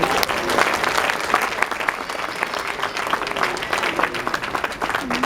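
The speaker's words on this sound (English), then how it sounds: "let's give Jerry a big round of applause." Sustained applause from an audience at an honorees ceremony, steady dense clapping lasting throughout, moderately close, with faint voices mixed in.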